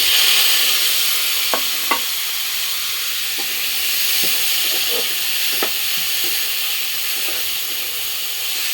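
Chopped tomatoes fry in a very hot wok, giving a steady bright sizzle and hiss with a few soft clicks and scrapes of stirring scattered through, close and continuous without talk.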